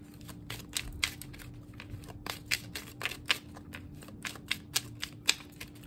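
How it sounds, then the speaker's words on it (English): Tarot cards shuffled by hand, a quiet series of crisp riffling and slapping bursts at an irregular rhythm, close and alone with no talk. "One more shuffle."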